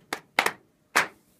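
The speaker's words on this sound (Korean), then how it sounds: "두 번째 박자로 박수 쳐줄게요." Hand claps from a group of percussion students in a cajón class, a sharp single clap, then a quick double clap, then another single after a pause, crisp and close in a quiet room.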